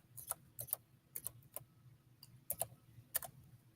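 Quiet typing on a computer keyboard, short bursts of light clicking keystrokes in irregular clusters, close by and faint over a low background hum, with no talking.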